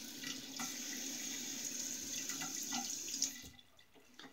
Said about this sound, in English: I'm running water over it.